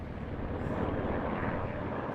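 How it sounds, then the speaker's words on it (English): A low, steady helicopter engine roar drones throughout as it flies over sea, mountains and lagoons in Brazil, constant and fairly loud. "The helicopter circles around the sea, mountains, lagoons, and overland."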